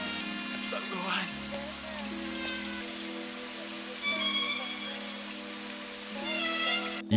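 Steady rain falls through a dramatic anime film scene, a constant wash of patter running beneath music and voices, with a cry of grief rising over it.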